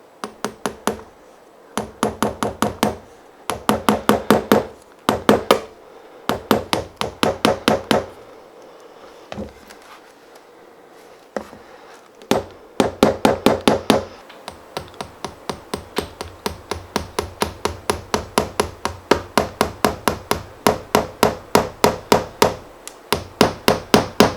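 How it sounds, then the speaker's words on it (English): Repeated hammer blows drive nails into a cork board in quick bursts, sharp close-up taps in rapid runs separated by short pauses, with no voices. "I'm using a hammer."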